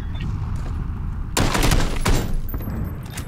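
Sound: AK rifle gunfire in PUBG video game

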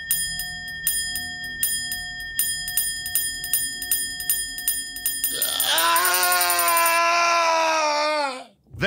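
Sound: old communication bell ringing, audiobook sound effect

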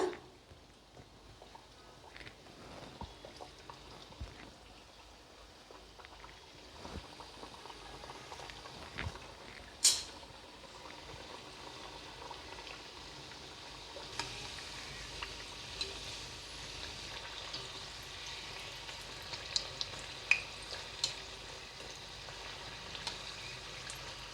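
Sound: stuffed snacks deep-frying in hot oil

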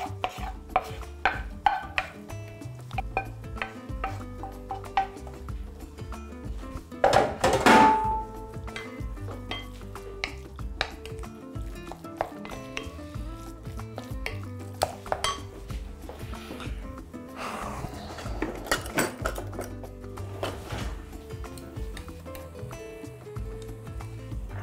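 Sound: fried ingredients added to minced meat for momo

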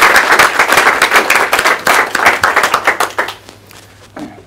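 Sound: audience applause after a presentation

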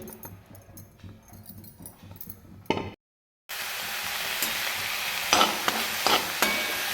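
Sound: onion frying and stirred in a kadhai

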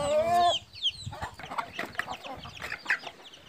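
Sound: chickens clucking while eating the feed

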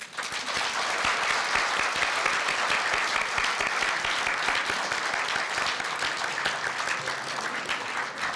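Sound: audience applauding during ceremony cake cutting

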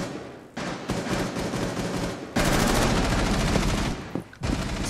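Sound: gunfire in the video game Rainbow Six Siege

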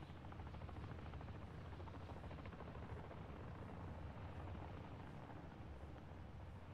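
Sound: helicopter in a video game

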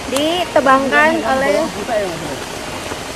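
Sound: rain falling

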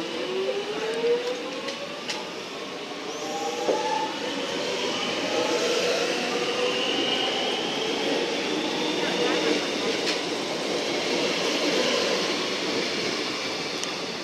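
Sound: Metro train departing Holmesglen station

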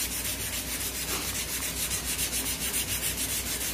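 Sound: sanding a wooden recurve bow limb

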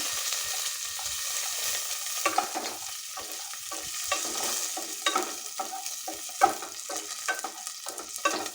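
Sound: garlic added to sizzling tempering in oil

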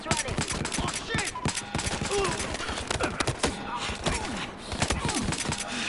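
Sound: gunfire in video game Battlefield Hardline

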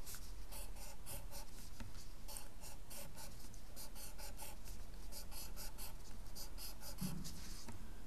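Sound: drawing eight squares by hand

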